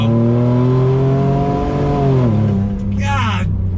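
Ford F-150 RTR truck with a 6-speed transmission accelerating at full throttle, its engine droning loud and steady in-cabin, rising in pitch, then dropping abruptly at a gear shift before climbing again; a voice speaks briefly near the end.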